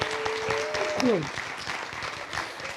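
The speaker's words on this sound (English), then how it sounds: "Can we clap again for Victoria doing an excellent job moderating?" Audience applause at the close of a panel discussion on diversity, a steady patter of claps with a brief tonal sweep in the middle and a voice starting to talk over it.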